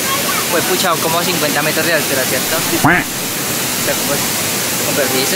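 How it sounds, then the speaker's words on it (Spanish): A tall waterfall in the Chorros de San Rafael area of Calarcá, Quindío, makes a loud, steady broadband roar throughout while people talk over it nearby. "es altísima la cascada"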